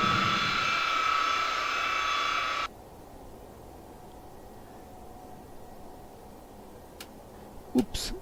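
Engines of a Tupolev Tu-154M airliner in the X-Plane flight simulator, a steady high whining jet drone that cuts off abruptly after a few seconds, leaving a quiet hum and a few faint clicks.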